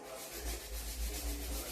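Wooden doorframe sanded by hand, a steady close scraping rub with rhythmic back-and-forth strokes, alone and without talk.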